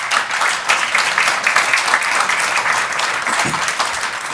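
An audience applauds at a talk on bail reform, with dense, lively clapping that stays loud and steady throughout and no speech over it.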